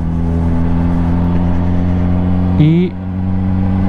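Honda CBR motorcycle engine running steadily on a farewell ride, a loud droning hum with a short higher-pitched rise near the end as someone speaks briefly over it.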